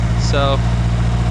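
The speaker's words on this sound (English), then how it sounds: "it's idling a little high right now, but that's probably just because it's trying to warm up." A turbocharged SR20DET engine in a Nissan S13 drift build idles a little high just after a first startup, with a steady low mechanical drone running throughout while someone speaks briefly over it.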